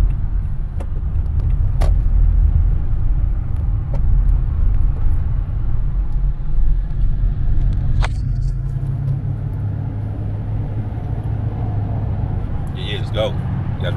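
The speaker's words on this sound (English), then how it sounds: "Traffic." Road traffic rumbles steadily with cars passing near a grill restaurant, a loud low roar that swells and fades, with a few sharp clicks and faint higher noises toward the end.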